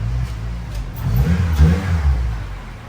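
A 2002–2006 Acura RSX Type-S four-cylinder with an Injen short ram intake revs steadily with a deep, rising engine roar that stays loud and close for the whole span.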